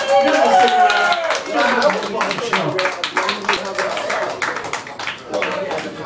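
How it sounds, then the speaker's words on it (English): Audience applause and clapping at a stand-up comedy show, a dense continuous patter of many hands with cheers and voices mixed in throughout. "yourselves a round of applause."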